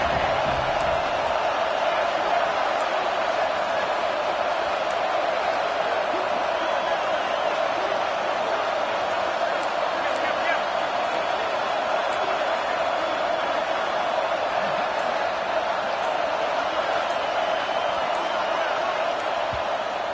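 A stadium crowd in an American football video game cheers and roars for a defence in the red zone, a constant dense wash of noise that holds steady from start to finish.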